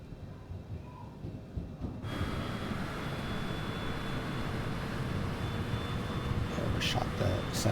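Aircraft engine noise from a plane taxiing at Newark in Microsoft Flight Simulator 2020: a steady, fairly loud broadband engine drone with a faint whine, rising after the first two seconds and continuing without a break.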